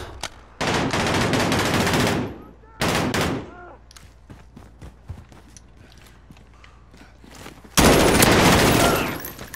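Loud bursts of automatic gunfire in a zombie-survival video game, three sustained volleys separated by quieter stretches of clicks, footsteps and mechanical handling, with players talking between bursts.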